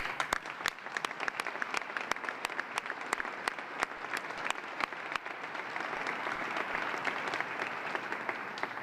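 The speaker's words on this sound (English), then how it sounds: "he deserves a round of applause" An audience at a marathon wreath ceremony applauds in a dense, sustained burst of clapping heard indoors, steady and fairly faint throughout, with no talking.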